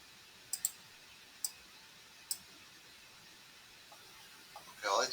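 Several sharp computer mouse clicks, a quick double click, then two single clicks spaced about a second apart, crisp and close against a faint background hiss while someone edits a picture layout in a word processor.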